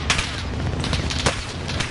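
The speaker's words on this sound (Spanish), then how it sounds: "Me están disparando, sigue ahí." Video game gunfire in a dense, continuous volley with a few sharper cracks standing out, loud and close throughout.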